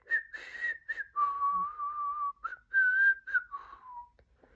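A man whistles a slow, simple melody alone, held notes rising and falling with short breaths between phrases.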